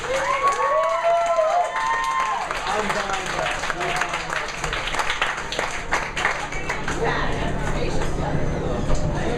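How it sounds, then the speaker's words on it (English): An audience at a stand-up comedy show gives a big round of applause: dense, continuous clapping and some cheering throughout, with a voice talking over it at the start. "a really big round of applause"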